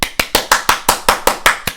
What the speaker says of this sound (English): Everybody starts clapping, round of applause.